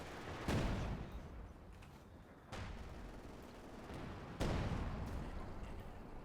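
White phosphorus mortar rounds fired from a half-track come down in a wartime strategy game: three faint, distant booming impacts spaced a couple of seconds apart, each trailing off into a low rumble.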